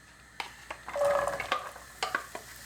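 Onions being stirred in a hot pan, with scraping utensil clicks and a brief sizzle, close and fairly quiet.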